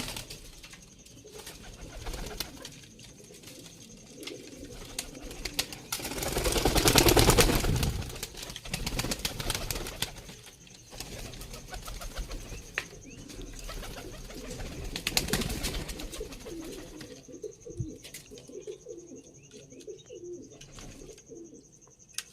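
Dubai breed high-flying pigeons coo in a loft, with soft rolling calls rising and falling over steady background noise and a louder burst of activity midway.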